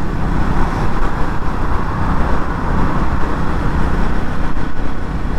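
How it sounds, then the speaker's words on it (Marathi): A Triumph Scrambler 400X motorcycle exhaust rumbles in a loud, dense, continuous drone with broad road-like roar, steady throughout and close by, no speech over it. "कसा वाटला सायलेन्सरचा आवाज?"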